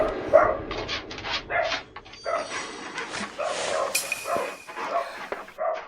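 A giant poodle barks repeatedly in short, sharp bursts mixed with yips and whimpering sounds, fairly loud and close, in an uneven rhythm.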